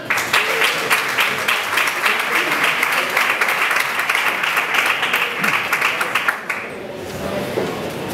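An audience gives loud, sustained applause for a singer, a thick, steady clatter of many hands that carries for several seconds, then drops off abruptly and leaves a quieter room.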